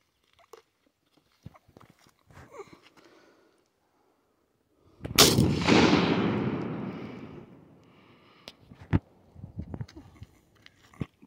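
A single loud, close blast from a Pedersoli Howdah 20 gauge black-powder pistol cracks out mid-clip and rolls into a long, fading boom, surrounded by faint scattered handling clicks.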